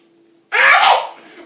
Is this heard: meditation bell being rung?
no